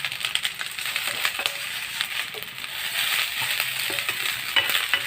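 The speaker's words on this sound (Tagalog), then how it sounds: "Pritong kanin." Rice fries in a hot pan for a breakfast fried rice, a steady crackling sizzle broken by scraping and stirring clinks of the utensil against the pan, close and fairly loud.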